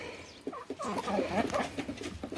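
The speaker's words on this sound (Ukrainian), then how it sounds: "Отакі у нас курчата." Several young chickens cluck and murmur close by in a coop, overlapping soft calls in a continuous chatter of moderate loudness.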